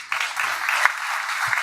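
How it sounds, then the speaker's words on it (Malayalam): An audience applauds at a film title launch event in Kottayam, with a brief burst of dense, steady clapping close by. "ഇനി കൈയടിക്കാം."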